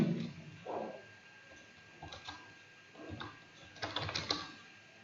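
Keys clatter on a computer keyboard in short irregular bursts of quick taps, close and fairly soft, with no talking over them.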